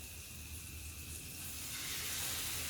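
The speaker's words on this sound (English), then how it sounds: "Now you got your beautiful butter bubbling there, sizzling away" Butter in a pan at a motorcycle campsite sizzles and hisses steadily around pieces of apple cinnamon doughnut bread, a continuous close frying sound that grows slightly louder partway through, with no talk.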